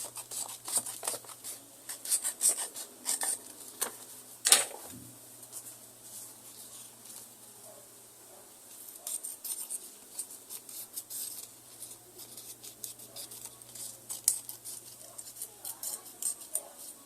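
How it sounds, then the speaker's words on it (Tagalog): Scissors snip through paper along drawn lines during a craft activity, a series of short crisp cuts close by, coming in irregular bursts with quiet pauses between them. "gugupitin natin itong may mga linya"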